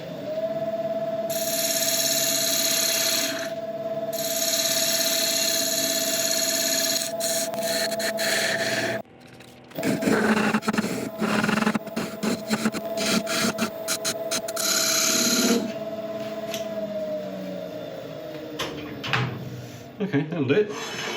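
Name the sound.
woodturning lathe cutting a recess into a resin base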